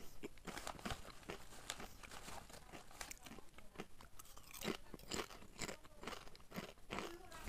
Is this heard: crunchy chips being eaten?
yes